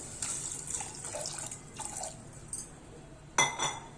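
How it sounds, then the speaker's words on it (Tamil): Water pours in short bursts from a tap into a metal pressure cooker, faint and close, with a brief clink near the end. "மூன்று வரைக்கும் தண்ணி ஊற்றிடலாம் இதில்"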